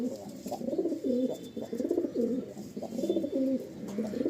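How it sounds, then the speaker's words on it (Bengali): Kaldum pigeons coo continuously in low, rolling calls, several birds overlapping close by, with no talking. "দুটোই কালদম ঘরের পায়রা।"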